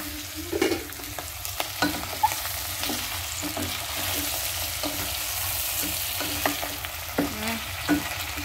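Shrimp sizzle and fry in butter in a pan, a steady close crackle with occasional stirring clatters and utensil knocks throughout.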